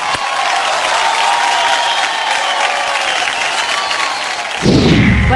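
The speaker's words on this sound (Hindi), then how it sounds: "शाहिद के लिए एक बार जोरदार तालियां हो जाए" Loud studio audience applause at a Hindi TV comedy show, a sustained roar of many clapping hands with a sharp surge of louder clapping and crowd noise near the end.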